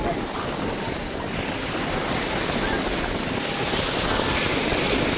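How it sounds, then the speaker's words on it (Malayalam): Ocean waves washing ashore at Cherai beach, a continuous loud broadband surf roar that swells slightly toward the end, with no voices over it. "നീ മാറിക്കോ, തിരമാല വന്ന് കയറുമോന്നറിയാൻ വേണ്ടി."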